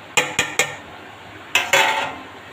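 Chopped potato, onion, tomato, eggplant and Bombay duck fish are tipped into a metal bowl, giving three sharp clanks close by, a pause, then two more clattering knocks with a brief scraping tail.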